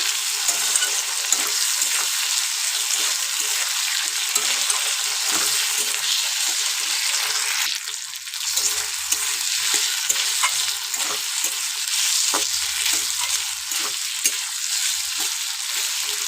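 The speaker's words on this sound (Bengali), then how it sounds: "আদা বাটাটা দিয়ে খুব ভালোভাবে কিন্তু কষিয়ে নেব।" Ginger paste frying in hot oil in a pan for a fish and green pea curry, stirred steadily; a loud, continuous close sizzle with scraping strokes throughout, no talking.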